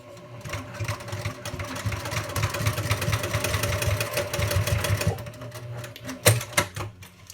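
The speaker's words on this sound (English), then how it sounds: "I'm going to stitch right over the seam to hold everything in place" A sewing machine hums and chatters as it stitches over the seam of a fabric wristlet strap, running steadily for about five seconds before stopping, followed by a few handling knocks.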